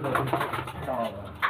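Racing pigeons at a pigeon-flying tournament in Bengal coo in soft, repeated low murmurs, with voices faintly audible nearby.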